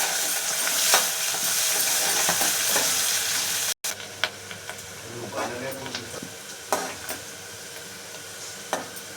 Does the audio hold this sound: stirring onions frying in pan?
yes